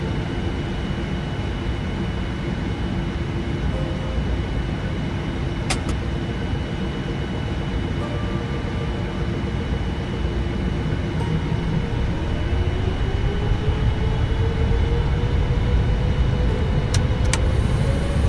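Simulated Royal Air Maroc Boeing 787-9 engines roar steadily during the takeoff roll, a dense low rumble with a faint whine rising in pitch toward the end.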